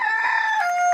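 A Mondo Godzilla rooster crows once, close and loud, its drawn-out call bending downward in pitch near the end.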